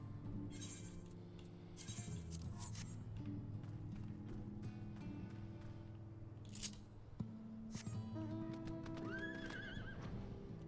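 Horses in Final Fantasy XIV neigh and whinny several times over rhythmic clip-clopping hooves and faint clinking, with soft game music beneath.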